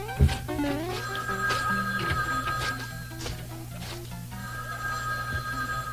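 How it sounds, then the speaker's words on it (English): A telephone bell rings in repeated short bursts beneath cartoonish music and sound effects, fairly faint and mixed with other tones. "Why does the phone always ring when I'm busy?"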